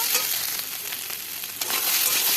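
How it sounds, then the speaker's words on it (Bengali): Potatoes and egg being stirred and fried in a spice masala, a steady broadband sizzle with scraping stir strokes running throughout, close and fairly loud with no talk. "একটু নেড়ে চেড়ে নিয়ে ডিমটাকেও দিয়ে দেব। আবারও একটু নেড়ে চেড়ে নেব।"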